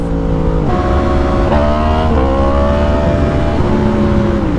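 A BMW M4 accelerating hard and close by, its engine note climbing through several gears with sharp dips at each shift, loud and steady with no talk.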